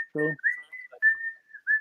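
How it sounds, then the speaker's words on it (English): A person whistles a short tune of several sustained, sliding notes, close and fairly loud, with a brief low buzzy sound near the start. "Yeah, I love that whistle. I do that whistle every day at work."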